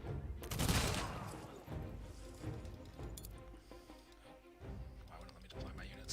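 Gunfire volleys come from military units in the strategy game Humankind: a loud burst of crackling shots, then scattered quieter volleys and reports with a voice speaking among them.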